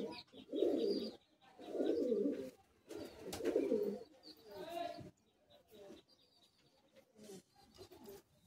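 A male white Madrasi high-flying pigeon cooing in a loft, several soft throaty coo bursts in a broken rhythm, close and fairly quiet, with rustling and handling sounds between them.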